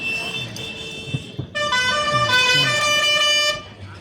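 Car horns honking in a traffic jam near Venna Lake, long sustained blasts overlapping, one horn joined by a louder second horn midway, close by, with faint talk underneath.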